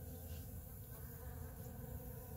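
Bees collect pollen on flowers, recorded close up: a steady, continuous buzzing of several insects, with no voices.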